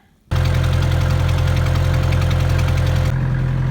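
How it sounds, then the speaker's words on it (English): A tractor engine catches abruptly and settles into a loud, steady, close idle with a regular low knocking throb, then drops slightly as the clip ends. "Okay, start your engine."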